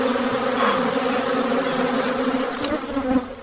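Jungle bees swarm around a honey hunter high in the trees, making a dense, continuous buzzing drone at close range with no speech over it.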